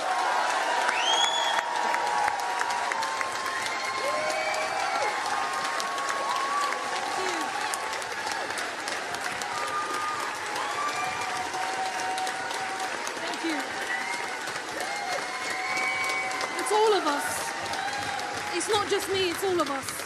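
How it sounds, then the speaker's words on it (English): A crowd applauds at a political gathering: sustained, dense clapping with scattered cheers, loud and steady throughout, and a voice talking over it. "Clapping now and applauding and showing your love for Apsana Begum."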